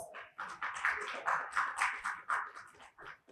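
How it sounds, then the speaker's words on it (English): An audience at an HR technology summit applauds as a panel is welcomed on stage: a sustained round of clapping from many hands, fairly even and continuous with slight swells, with no talking over it. "Please welcome all the panelists with a round of applause"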